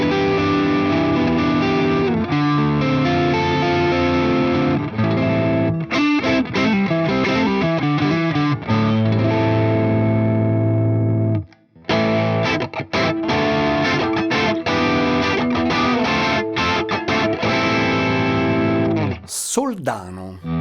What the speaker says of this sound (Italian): Suono high gain, sempre di un amplificatore proprietario Boss.